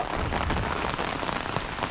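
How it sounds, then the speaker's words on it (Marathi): Heavy monsoon rain pours down steadily in a village in the Konkan, a dense, even hiss of drops hitting surfaces with no pauses. "पाऊस बघा चालू झालेला आहे मोठा पाऊस आहे"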